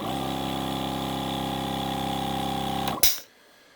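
A Milwaukee M18 air compressor plugged into wall power runs with a steady, droning motor hum, then cuts off abruptly with a brief hiss and clunk before falling quiet.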